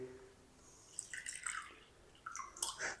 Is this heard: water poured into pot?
yes